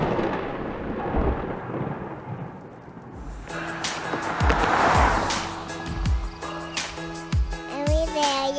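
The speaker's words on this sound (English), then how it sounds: "It's hailing hard." Heavy hail and a thunderstorm heard from shelter inside a small cave in Colorado's Rocky Mountains: dense rushing patter with deep rumbling thunder building midway, a few sharp knocks and some faint background voices.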